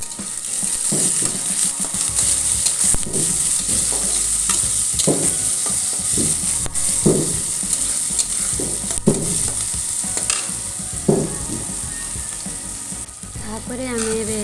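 Onion frying in hot tempering oil, giving a loud, continuous hiss and crackle with a regular series of utensil scrapes from stirring.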